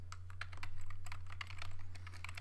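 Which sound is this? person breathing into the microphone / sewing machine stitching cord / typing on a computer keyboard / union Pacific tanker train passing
typing on a computer keyboard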